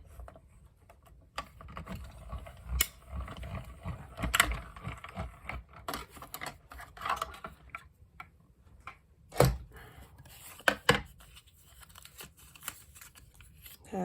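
A plate is cranked through a die-cutting machine, giving a string of soft, irregular ticks, clicks and ratcheting knocks over a low rumble, close by and fairly quiet throughout.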